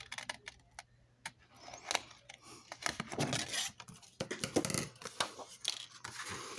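Scissors snip through paper card in a run of short, crisp cuts with small gaps between them, close by and fairly quiet, during folded tuxedo card crafting; no one speaks.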